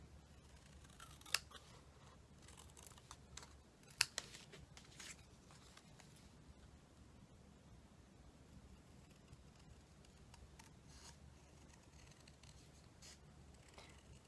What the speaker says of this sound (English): I'm going to take my scissors and just cut that real quick.